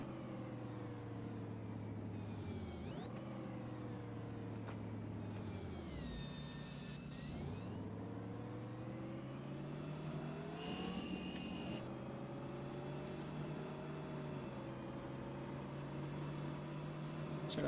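Battle Truck FMOD engine mod in American Truck Simulator, a deep rumbling truck engine revving and dropping through gear changes, with air-brake hisses and rising pitch sweeps as the truck accelerates, steady and close.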